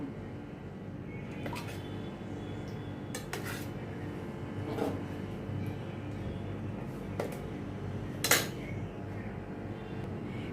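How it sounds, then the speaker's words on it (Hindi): Knife cutting cooled boiled besan gatte into pieces on a plate, soft repeated scrapes and occasional sharp clinks of the blade against the plate, close and steady with no talk. "अभी इनको मैं पीसीस में मैं कट करती हूँ"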